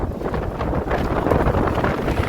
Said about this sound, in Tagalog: Kadagpo na hangin